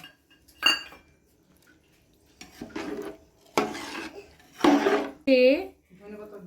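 A spoon scraping and clinking in a pot as biryani masala is mixed into veg dum biryani, with several separate bursts of stirring and knocks between pauses, up close.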